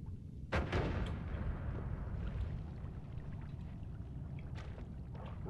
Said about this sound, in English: Drop a couple bombs over here.